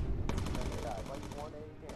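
Machine guns firing from bomber gunners in the World War II game Bomber Crew, a dense rapid rattle of game gunfire running steadily through the clip with a sharp burst near the start.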